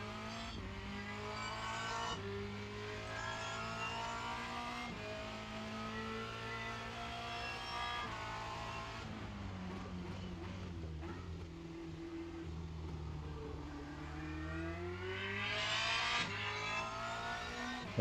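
Formula Renault 2.0 single-seater engine in the iRacing simulator at Spa-Francorchamps, revving hard through the gears with rising and falling pitch sweeps and sharp shifts, loud and continuous with no talking.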